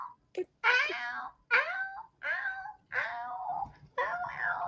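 A cat named Orpheus meows loudly and insistently up close, giving about six drawn-out, wailing calls in a row with short pauses between them.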